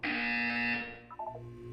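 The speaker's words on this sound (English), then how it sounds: "When you hear the buzzer, look up at the ceiling." A loud electronic buzzer blares in a video game, one sustained harsh tone that cuts off after under a second, followed by a few short blips and a low lingering hum.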